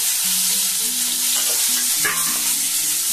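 Boiled potato pieces tipped into a hot frying pan for a tomato aloo posto, a loud close sizzle with stirring and clattering scrapes over about three seconds, no talking.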